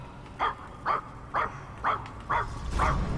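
A robot dog in the video game Puppeteer barks five times in an even rhythm, short clear yips spaced about half a second apart over a low background hum, with no voices.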